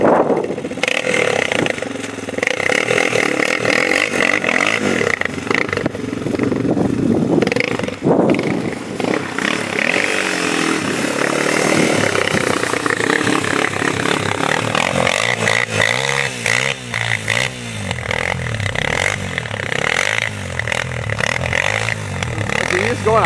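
2003 Honda TRX400EX ATV on bald tires climbing a slope of foot-deep snow, its engine revving and labouring with rising, shifting pitch while people talk over it.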